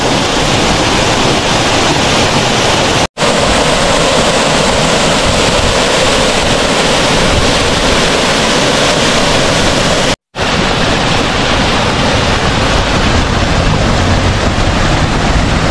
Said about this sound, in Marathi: हे वाहतं पाणी, असा आवाज यायचा।